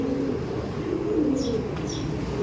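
A racing pigeon in a loft gives soft, low throaty coos close by, a brief burst of cooing over a quiet background hum, with a couple of faint higher chirps.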